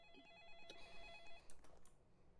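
A telephone rings inside a video game, a faint electronic trilling bell repeating in short bursts over a low background hum, with no voices.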